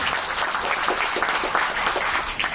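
Loud, dense applause from an audience at an Indian national security and unity event fills the hall, welcoming a guest with a steady wash of clapping from start to finish.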